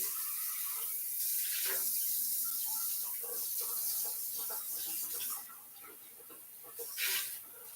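Tap water runs steadily into a sink while items are rinsed under it, a continuous hissing splash that changes as the flow is interrupted, with no speech.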